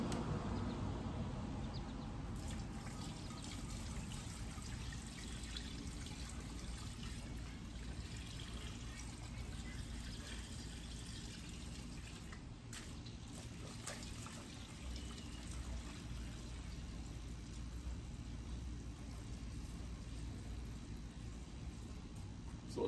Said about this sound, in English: So let me just pour some in here.